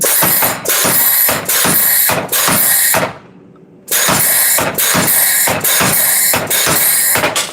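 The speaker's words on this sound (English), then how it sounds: "Out we go, back to the hammer" A mechanical forging hammer pounds hot metal in a fast, loud, steady rhythm, pausing briefly before the heavy blows resume.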